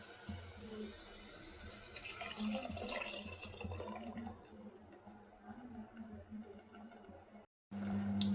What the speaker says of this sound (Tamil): புளி தண்ணி ஊற்றிட்டோம் இன்னொரு கப்பு பச்சை தண்ணி ஊற்றிக்கலாம்